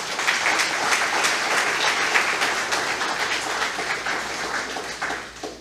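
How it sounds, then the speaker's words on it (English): An audience at a Marcus Garvey cultural celebration breaks into sustained applause, many hands clapping densely and loudly for several seconds before fading slightly toward the end. "I want to just personally recognize her with a big round of applause"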